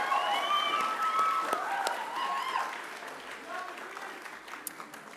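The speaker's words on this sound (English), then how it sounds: "And I'd ask you to give them a round of applause too" A graduation audience applauds academic staff in a university ceremony hall, steady crowd clapping with some cheers, loud at first and easing slightly while a voice speaks over it.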